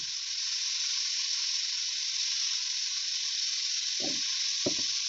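Bitter gourd seasoned with black pepper and salt sizzles in a pan, giving a loud, steady, continuous frying hiss, with two brief low scrapes of stirring near the end.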